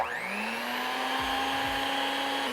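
An electric hand mixer runs steadily while mixing lemon cupcake batter, its motor whine holding a constant pitch throughout with a few low thumps partway through. No one speaks.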